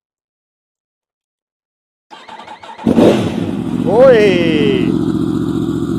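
A Yamaha R1 sport motorcycle, previously crashed on a track, cranks over and fires up, then settles into a loud, steady idle with a brief rising rev. A person speaks briefly over it.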